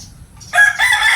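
A native rooster crows loudly and close by, a single drawn-out call that swells midway and holds strongly to the end, with no talking over it.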